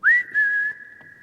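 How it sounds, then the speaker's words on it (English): A single sharp, sustained whistle, rising quickly then holding a steady high tone for about a second in a quiet, echoing church at night. "Just like that whistle."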